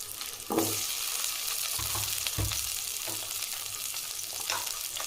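Garlic and two cut tomatoes sauté in a pan for a broad-bean and eggplant kuzhambu, a close, steady sizzle marked by several spatula scrapes and stirs.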